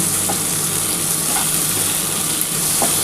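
Chili powder frying in hot oil for a spicy egg curry, a steady close hiss and sizzle with faint stirring scrapes, continuous and even throughout.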